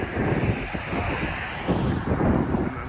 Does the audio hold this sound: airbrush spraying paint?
no